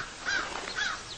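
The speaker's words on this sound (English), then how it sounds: "she would crow and crow until I let Cassie out" A crow that plays with a cat caws twice in quick succession, harsh nasal calls standing out over steady background hiss, close and without talk.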